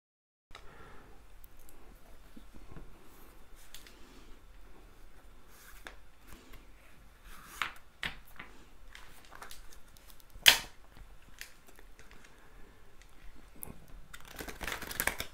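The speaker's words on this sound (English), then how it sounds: "I'm going to shuffle my cards, cut them and shuffle them three times" A deck of tarot cards is shuffled and cut by hand indoors: soft riffling, crinkly friction and sharp little snaps spread across the stretch, with quiet gaps and a crisp louder slap partway through.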